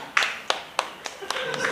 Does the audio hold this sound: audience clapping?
yes